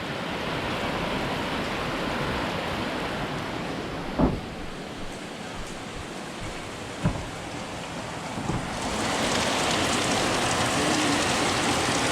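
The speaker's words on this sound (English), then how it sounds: "A little bit of rain." Steady rain falls on a house under renovation, a broad continuous hiss with a few louder drop impacts, growing heavier and denser toward the end.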